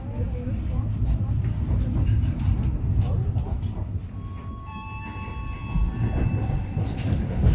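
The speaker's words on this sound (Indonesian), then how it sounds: "kita mulai perjalanan kita bersama kereta ekonomi kerakyatan perjalanan perdana Jakarta Jogja Lempuyangan" Economy passenger train from Jakarta to Yogyakarta Lempuyangan rumbling along with steady rattling and clatter from inside a carriage, with a faint high whine partway through.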